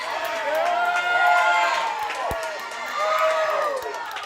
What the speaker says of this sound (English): Listen to how fired up this crowd is.